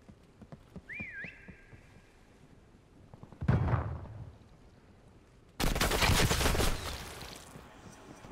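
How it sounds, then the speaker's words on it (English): Gunfire in a prop hunt match inside a video game: a faint whistle, then a loud burst of shots, a quieter stretch, and a second sustained volley of rapid fire toward the end. "He shot at the rock that's in there."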